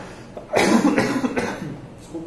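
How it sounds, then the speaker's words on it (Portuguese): A woman suffering from a persistent cough gives a loud, close, rough burst of coughing that trails into a few weaker hacks, with no talking over it. "Desculpa ainda pela minha tosse."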